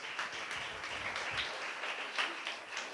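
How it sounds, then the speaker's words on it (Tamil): A church congregation claps their hands together in thanks during a Tamil worship service, a steady, moderately loud patter of many hands lasting a few seconds with no talking over it. "நல்ல கைத்தட்டி ஆண்டவருக்கு நன்றி சொல்லுங்கள்."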